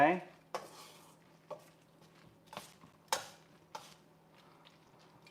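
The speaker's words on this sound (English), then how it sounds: "So add a little and mix it around." Utensil stirring pasta carbonara with cheese in a pan, producing a few scattered scrapes and clinks against the pan over a faint low hum, quiet and close, with no talking.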